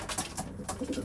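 Young racing pigeon cocks coo in a loft box, a brief series of soft, rolling coos close by with no talking.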